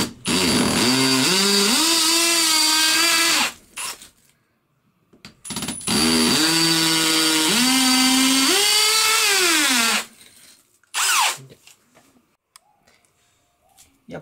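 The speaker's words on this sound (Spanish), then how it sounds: "aquí ya tenemos las perforaciones para hacer con el taladro" An electric drill whines loudly in two long bursts, drilling holes for wall plugs, its motor pitch rising and falling as it bites, then a few short clicks and taps.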